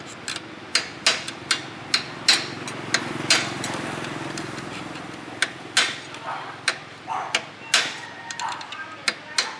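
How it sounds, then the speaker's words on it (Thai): A screwdriver is struck repeatedly with a hammer to knock out a rocker arm on a Honda GX35 small engine. The sharp metallic taps come close and irregular, in bursts, over a low background hum. "เอาไขควงตอกก่อนเลย"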